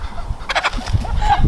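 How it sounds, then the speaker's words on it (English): A baby chicken peeps in short, close chirps against a steady low background rumble, with no voices. "here's the baby chicken"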